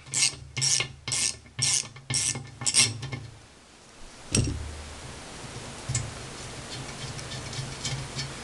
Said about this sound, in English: You get your ratchet and just go like this to get them out.